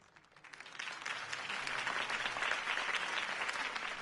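Crowd applause at a campaign rally for Harvey Dent in a Batman Telltale Series video game swells quickly from quiet into steady, dense clapping that holds at a moderate level.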